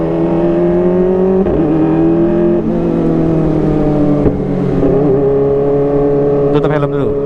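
Close, loud engine sound of a Kawasaki ZX25R with an Arrow Pro Race exhaust, held steady with a few throttle blips that rise and fall.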